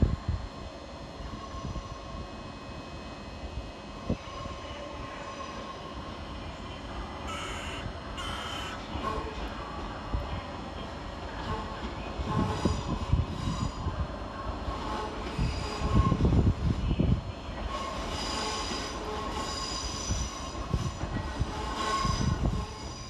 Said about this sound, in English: we'll get started here at Brighton with 377-109, working the 1630 Southern Railway service to Southampton Central